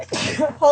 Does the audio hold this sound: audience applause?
no